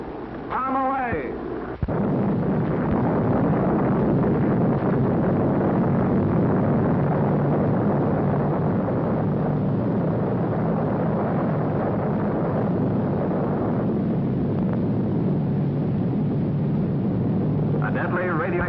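Atomic bomb test at sea near warships: after a brief voice, a deep, sustained roaring rumble from the explosion fills the scene steadily for over fifteen seconds before a voice returns at the end.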